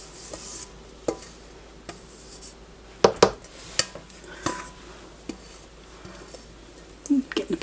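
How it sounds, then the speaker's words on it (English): Utensils scrape and tap around a baking pan used for banana bread, making scattered scratches and sharp clicks. A denser flurry of scraping comes in the middle and near the end, with some faint voice in the background. "Getting the pan clean."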